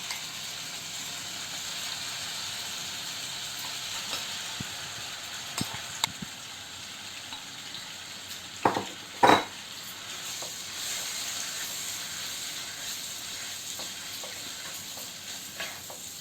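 Marinated chicken for butter chicken fries in a pan with a constant soft hiss, a few light utensil clicks and one louder clatter in the middle as it is stirred.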